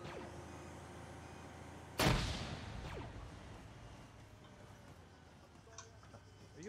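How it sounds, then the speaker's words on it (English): A grenade explodes in a military video game: a single sudden blast partway through, with a rumbling tail that decays over a couple of seconds under a quiet background of game noise. "Oh, that's a grenade."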